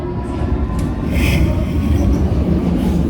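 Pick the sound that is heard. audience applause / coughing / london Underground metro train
london Underground metro train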